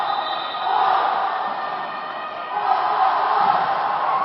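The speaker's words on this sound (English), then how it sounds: "Australia takes the 3-2 lead, and we hear their fans" Australian supporters cheer and shout at a dodgeball world championship match against Canada in Cancun, a sustained crowd roar heard from across an indoor arena, with no commentary over it.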